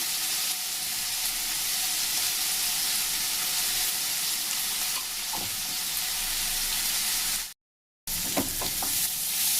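Sliced onions frying in a pan until light brown, a loud continuous sizzle close by with stirring scrapes near the end and a brief break in the sound.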